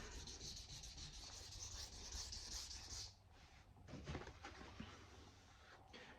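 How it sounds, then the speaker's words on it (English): A Hinoura petty knife is rubbed against a sharpening stone in steady back-and-forth scraping strokes, close and fairly quiet, with the rasping easing off partway through into softer intermittent scrapes. "This is more or less just part of the sharpening process for it, because I haven't done it in a long time."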